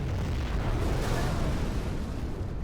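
A Scud Storm building being destroyed in a desert-map real-time strategy battle, a dense, loud, sustained roaring blast with heavy rumble that holds steady for a few seconds without letting up.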